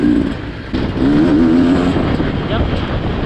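A Beta 300RR two-stroke motorcycle engine revs nearby, a rough buzzing drone that rises and wavers in pitch over a steady loud rumble.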